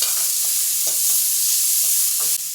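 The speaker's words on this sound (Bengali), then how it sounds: "এই যে টমেটম কুচিয়ে রেখেছি টমেটম কুচনোটা দিয়ে দিলাম দিয়ে একটু নাড়াচাড়া করে নিচ্ছি" Chopped tomatoes stirred in a frying pan give a steady soft sizzle, with a few light stirring scrapes over the constant hiss.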